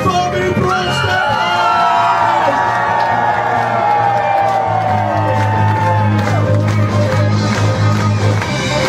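A concert crowd at a live band show in Broadstairs cheers, whoops and screams loudly and continuously, with a steady low musical hum underneath throughout.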